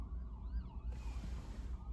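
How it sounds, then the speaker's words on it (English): A faint, distant ambulance siren wails and warbles, with low traffic rumble underneath. "oh my gosh, there's so many ambulances."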